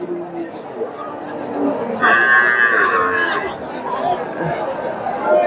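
A local-breed cow calf with some crossbreeding moos once, loud and drawn-out, at a busy cattle market, with steady crowd chatter and voices around it throughout.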